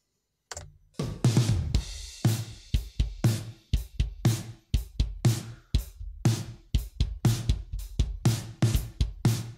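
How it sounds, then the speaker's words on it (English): Short, punchy 80s-style snare drum hits in a steady pattern, low and short, each crack cut off abruptly by gated reverb after a brief burst of tail, with no talking. "Really low, short sounding snare drum, and with the gated reverb it gets some more tail."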